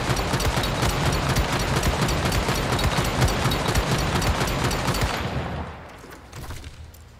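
The DE.50-Jaws gun in the survival game Once Human fires a fast continuous stream of loud, close shots that stops abruptly, leaving a fading tail.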